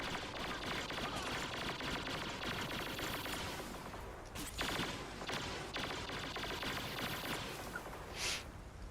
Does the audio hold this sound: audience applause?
no